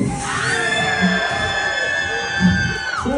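Riders on a roller coaster scream loudly and continuously, one sustained high shriek carried over a crowd of overlapping yells throughout.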